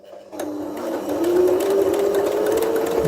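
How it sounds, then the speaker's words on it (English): A sewing machine back stitching a fabric face covering whirs steadily and close, its motor tone rising after a brief start and holding a continuous hum alone. "A little bit of back stitching."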